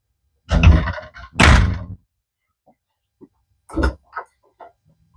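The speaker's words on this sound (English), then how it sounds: "Oh, the door's popped off." Two heavy thunks in quick succession as a toy hauler RV's door pops off in the wind, followed by a few quieter knocks and clatters scattered after a pause.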